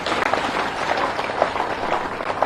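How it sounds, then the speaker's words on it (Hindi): A large audience at a political party gathering breaks into steady, dense applause, many hands clapping at once in a continuous loud wash with no pauses. "हितानंद जी का आज तो जोरदार ताली बजा के स्वागत कीजिए।"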